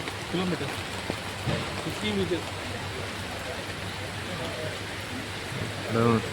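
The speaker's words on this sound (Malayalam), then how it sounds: "നല്ല മഴയാണ് ഇവിടെ." Heavy rain pours steadily at the Kottiyoor bus stand during the temple festival, a dense wash of noise with faint voices briefly heard underneath.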